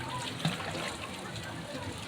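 Water splashes and sloshes in an aquapark pool after a dive, with one brief splash standing out against a steady wash of pool noise while voices talk nearby.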